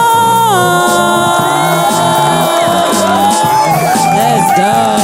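Audience at an Approach The Mic spoken-word night cheering, whooping and clapping for the next performer, a steady loud crowd roar with shouts over sustained music tones.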